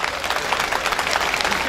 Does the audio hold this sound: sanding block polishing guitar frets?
no